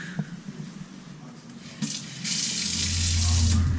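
Kitchen sink tap in a modern Taipei apartment turned on, water beginning with soft splashes then rising into a steady, loud rushing stream that continues to the end.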